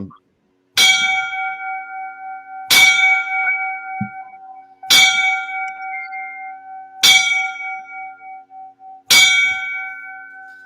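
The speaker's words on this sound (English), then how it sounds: "let me give these 5 bells for the 4 boys that were lost" Five bell strikes ring out in a memorial for fallen firefighters, each a bright clang spaced about two seconds apart, its ringing tone lingering and fading before the next stroke.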